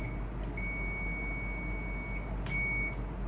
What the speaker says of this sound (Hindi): देखिए बीप की आवाज आई